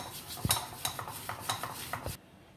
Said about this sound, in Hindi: अब इन दोनों चीज़ों को हम अच्छे से मिक्स करेंगे।